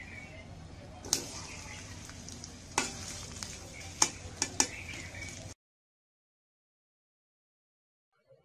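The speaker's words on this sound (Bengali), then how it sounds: "যেহেতু কড়াইটি গরমই আছে তাই আমি সাথে সাথে পেঁয়াজ কুচি দিয়ে দিব।" Chopped onions fry in hot oil in a wok, giving a steady close sizzle with sharp clicks and scrapes from stirring. The sizzle cuts off abruptly partway through, leaving silence.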